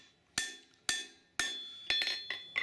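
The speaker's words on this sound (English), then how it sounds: "Now I'm going to flatten up all my high spots and I'm down to an 800 gram hammer." An 800 gram hammer strikes a steel knife blade being forged on an anvil, five or six sharp ringing metallic blows spaced about half a second apart, close and clear with bright lingering ring.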